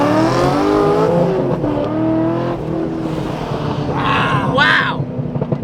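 A manual Corvette accelerates hard from a slow five-mile-an-hour roll in a race against a Hellcat, engine roaring loud and close as revs climb through the gears, with brief shouting voices near the end.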